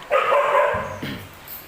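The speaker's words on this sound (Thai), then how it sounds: "ลูกลูกอย่าเห่ากันอย่าเห่ากัน" Dogs bark and yelp at close range in one short, loud burst that fades into lower whimpering sounds.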